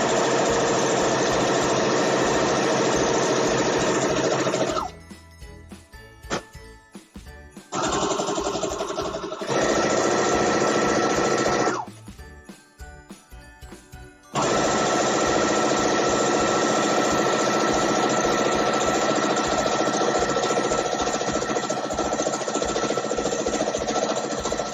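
Sewing machine stitching a straight seam at a fast, continuous buzzing run, then breaking into short bursts and pauses for the back stitch before resuming a long steady run.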